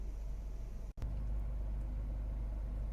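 Steady low hum and fan-like whoosh of a Toyota Wish's air conditioning heard from inside the cabin, with one brief dropout near the start.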